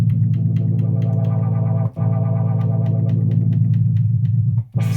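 A Korg Poly-61M synthesizer holds a droning, distorted chord while its parameter values are changed, giving a steady buzzing tone with brief dropouts, then a sudden bright noise burst at the end; no speech.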